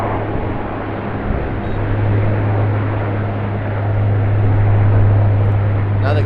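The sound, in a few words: Q400 turboprop airliner at Sydney Airport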